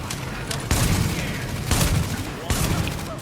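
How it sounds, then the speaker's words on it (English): Shotgun blasts from close-quarters combat in the video game The Division, three loud booming shots spaced about a second apart over a constant din of background gunfire and game noise. "A bit of close quarter shotgun."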